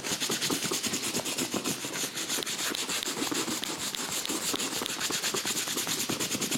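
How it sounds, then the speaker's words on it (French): A Red Wing leather boot scrubbed steadily with a soapy brush, a continuous fast rasping swish worked into the stitching, close and loud with no talk. "on va savonner la chaussure. Toujours pareil, on insiste bien dans les fils pour aller nettoyer."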